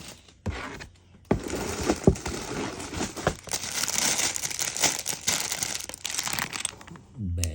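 A plastic bag of Lego parts is crinkled and torn open, with loud, dense crackling that sets in after a short pause and continues almost without a break to the end.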